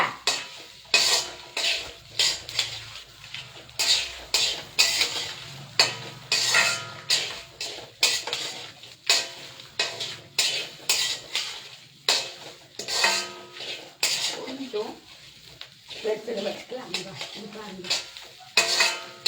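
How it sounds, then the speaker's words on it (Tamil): Onions frying to golden in a pan for a chicken gravy, with a steady sizzle under a repeated, rhythmic scraping and stirring of a spatula against the metal, close and fairly loud, with no voices. "ஏன்னா வெங்காயம் நல்லா பொன்னிறமா வறுத்துருவோங்க."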